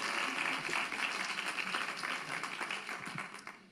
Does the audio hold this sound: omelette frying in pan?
no